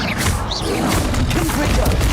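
A Stupefy spell lands in Hogwarts Legacy with a burst of magical crash and thwack sounds amid busy combat effects, loud and continuous over about two seconds.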